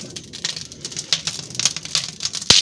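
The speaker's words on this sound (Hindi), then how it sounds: "बारिश वगैरह भी इधर देखें काफ़ी आ रही है" Rain patters in a village with irregular, crisp drips and taps striking nearby surfaces, plus a louder splash near the end and no talking.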